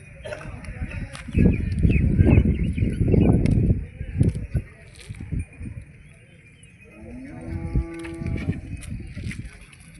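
Cattle low repeatedly at a busy weekly livestock market, several drawn-out moos close by with animal and crowd noise around them.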